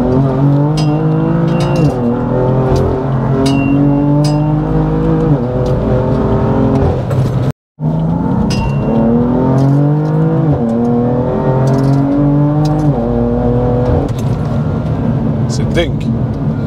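A BMW M4 GTS engine revs hard through repeated climbing pulls as it accelerates, loud and close, with a brief cut in the middle and someone talking over the engine.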